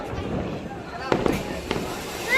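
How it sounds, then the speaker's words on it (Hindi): Diwali fireworks and firecrackers in Begusarai pop and crackle in the distance, a few sharper bangs standing out, while people talk nearby. "और यहाँ सब पटाखा वटाखा फोड़ रहा है"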